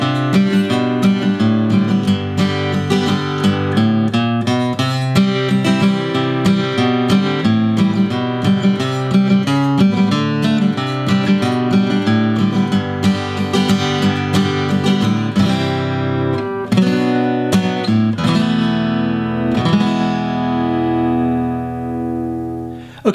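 Acoustic guitar plays a section of a song, a busy rhythmic passage of strummed chords and bass-line notes, close and loud without pause, before slowing and ringing out at the end.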